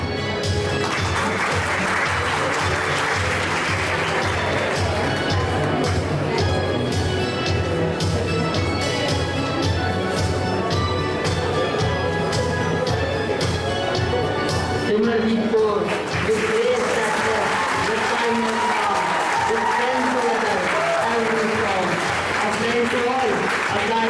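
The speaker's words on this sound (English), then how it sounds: "A great round of applause." Sustained audience applause at a school investiture ceremony, a dense steady wash of clapping lasting the whole stretch, with music and voices rising underneath in the latter part.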